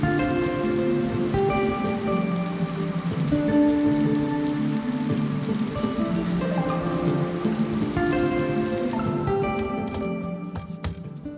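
Steady rain falling in the green, mossy hills of Snowdonia, a dense continuous patter close by, with sustained musical tones running over it and the hiss thinning out near the end.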